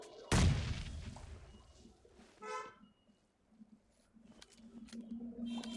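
AWM sniper rifle firing in PUBG Lite, one loud sharp booming shot with a long decaying tail, followed by quieter game sounds and background hum.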